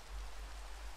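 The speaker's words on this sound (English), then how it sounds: "It is the rain time." Steady rain falling in the Minecraft video game, a dense, even wash of noise that fills the whole moment without breaks, moderately loud and with no voices over it.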